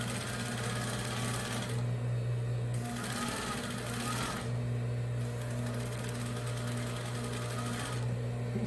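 A sewing machine stitches a Christmas cushion in steady motorized runs, a humming whir broken by short pauses between bursts of sewing.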